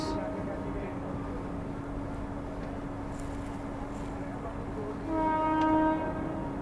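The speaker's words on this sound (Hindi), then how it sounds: "पीछे से आ रही है अब ओवरटेक करने भाई डिब्रूगढ़ नई दिल्ली राजधानी एक्सप्रेस" Dibrugarh–New Delhi Rajdhani Express approaching from behind to overtake a train halted at an outer signal: a steady mechanical drone throughout, then a sustained horn blast sounds near the end, rising slightly in loudness.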